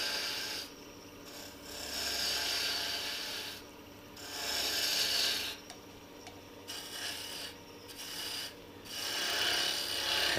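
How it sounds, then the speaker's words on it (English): A fine detail gouge cuts wood on a lathe during turning of an antique gas pump, a steady rasping scrape that swells and fades in several passes, close and moderately loud, with no speech. "And this is just a fine detail gouge."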